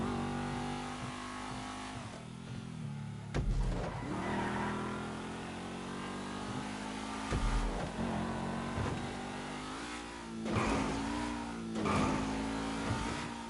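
A rear-wheel drive car in a PS4 racing game revs hard through gear changes, its engine note climbing and dropping repeatedly with brief tire squeals, loud and steady throughout, without talking.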